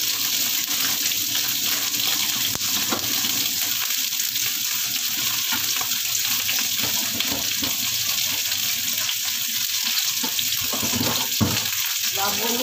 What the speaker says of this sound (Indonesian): Kita cuci tangan dulu.